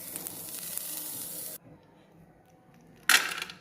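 Coriander and ginger pieces sizzle as they are sautéed in a pan for crab curry, a bright hiss that cuts off abruptly partway, then flares again in a short loud burst.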